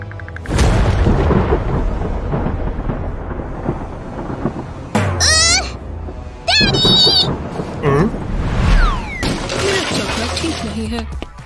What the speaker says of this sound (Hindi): अंधेरा था और तूफान आया।